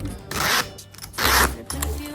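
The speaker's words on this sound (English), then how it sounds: "It has this zip here." Zipper on a leather jacket gives two quick, loud rasping zips close by, then a shorter third pull, with no talking over it.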